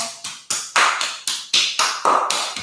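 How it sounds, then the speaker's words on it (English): Palms tapping briskly up the inside of the arm during a morning self-massage routine, a steady run of about ten close, crisp slaps in an even rhythm with no talking over them. "So tap up through the inside of the arm"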